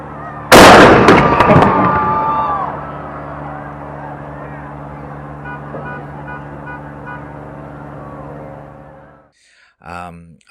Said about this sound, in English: Cod's 5-inch wet mount deck gun sounded the beginning of totality